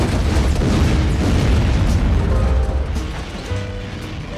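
Missile fired in a military weapons test and exploding, a loud sustained broadband blast and rumble that holds steady before tapering slightly, with no voices.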